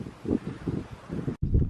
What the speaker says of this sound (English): Windy and tumbleweeds.